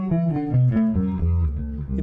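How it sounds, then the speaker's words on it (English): An electric guitar running through a SuperCollider octave-down effect, fully wet with only the low octave, plays a short run of deep, bass-like notes that sit close and steady. "It just goes an octave lower,"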